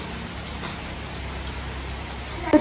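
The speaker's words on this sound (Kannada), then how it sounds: "ನೋಡಿದ್ರಲ್ಲ ಎಷ್ಟು ಮಳೆ ಬರ್ತಾ ಇದೆ" Steady heavy rain pours down at home during a biryani cooking session, a constant broadband hiss with no voices, and a brief louder knock right at the end.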